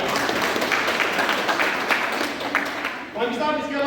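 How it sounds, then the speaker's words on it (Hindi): Loud, continuous audience clapping at a gathering of former soldiers, a thick rattle of many hands filling the room, with a voice starting to speak over it near the end. "इसके लिए जोरदार तालियां।"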